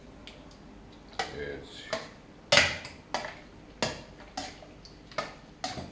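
A slotted spoon cuts through set curd for traditional sour cheese, producing a series of sharp clinks and scrapes against the pot at irregular intervals, close and clear, while a person speaks briefly.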